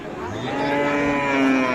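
A Friesian cross bull calf moos at a livestock market in Bangladesh, one long, loud, drawn-out call rising and holding close by, with no talk over it.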